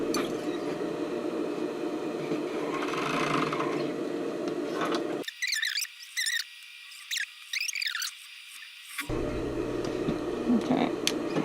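A sewing machine stitches a rolled edge of elastic along a sports bra, its motor giving a steady close whirring hum that drops away for a few seconds in the middle before resuming.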